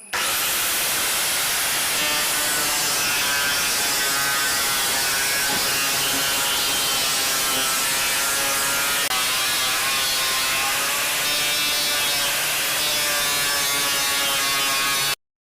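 Power tool polishing wooden pieces for a bed lamp, a continuous loud rasping buzz that holds steady for the whole stretch, close by, with no talking.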